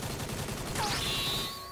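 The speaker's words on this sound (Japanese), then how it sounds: "銃声したけどね、今" Burst of gunfire in the mobile battle-royale game Knives Out (荒野行動), a rapid fusillade of shots over busy game ambience, followed by a brief rising whistle-like tone.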